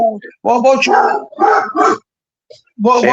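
A dog barks in a few short, loud bursts close by, amid a lively conversation with people talking and no clear separation between voices and barks.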